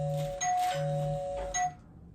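An electronic doorbell rings indoors with two clear chime tones, each held briefly, then fades into quiet.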